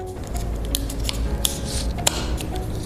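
A single-use Olaplex No. 1 packet is folded down and clipped shut with a binder clip, giving close crinkly rustles and a couple of sharp plastic snaps over a low steady hum.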